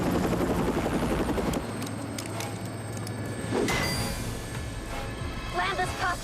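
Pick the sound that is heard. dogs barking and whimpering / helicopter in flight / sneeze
helicopter in flight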